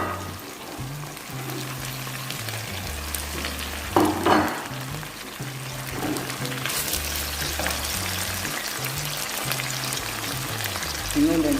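Zucchini fries in a pan with a steady close sizzle, a few louder bursts and stirring scrapes, while soft background voices and kitchen noise run beneath.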